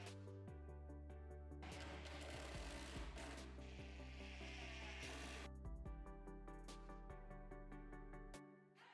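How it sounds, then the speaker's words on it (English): A drill drives pocket hole screws into a wooden bookshelf panel, a close, loud motor whine with a grinding middle section as the screw bites in, then winding down at the end. "Then I secured it in place with pocket hole screws."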